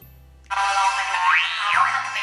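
A springy cartoon boing sound effect from the CapCut app, with a wobbling pitch that rises and falls, loud and close, ringing on for about two seconds.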